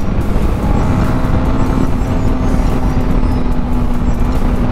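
Steady engine drone of a WagonR car being raced on a hill road toward Tehri, loud and continuous with a low hum and road rumble throughout, no voices.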